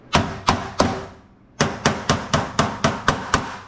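A hand hammer beats metal flat while working on a turbo LT-powered S10, with three sharp ringing blows, a short pause, then a steady run of eight more close, evenly spaced strikes.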